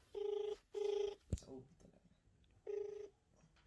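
A phone line rings out while calling a doctor, two long ring bursts close together, then a pause with a click and faint murmur, then a third ring burst.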